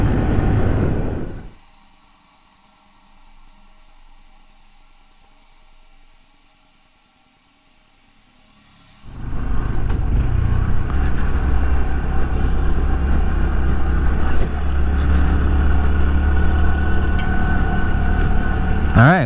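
A Honda Trail CT125 motorcycle on a forest gravel road: a quiet stretch gives way to a loud, steady engine drone with wind and road rumble, close up and continuous, with no talk.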